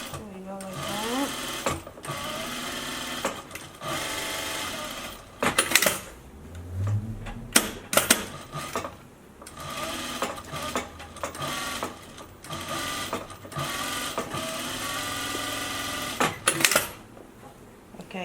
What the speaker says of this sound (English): we want to have some stitch right here to fold the seam down